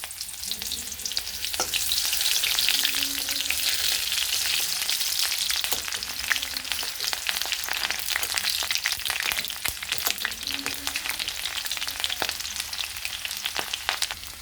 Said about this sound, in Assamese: মোৰ তেলখিনি গৰম হৈ গৈছে। মই 2টা শুকান জলকীয়া পূৰণ দি দিছোঁ। মই এটা পিঁয়াজ সৰু সৰুকৈ কাটি পূৰণ দি দিলোঁ।